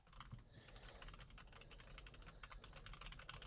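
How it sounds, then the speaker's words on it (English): Someone types steadily on a computer keyboard, a quiet stream of rapid, uneven key clicks with no voices. "What are you typing? Who's typing?"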